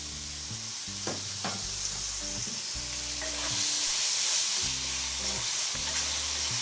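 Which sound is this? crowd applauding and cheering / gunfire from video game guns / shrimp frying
shrimp frying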